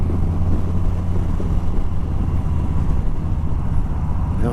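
A 2021 Harley-Davidson Softail Standard big-twin motorcycle engine pulling from idle: a loud, steady low rumbling drone throughout, close and without talk.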